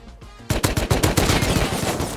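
Rapid AK rifle bursts in the survival video game Rust crack out loud and close after a brief quiet start, a dense string of sharp shots with echoing tails filling the rest.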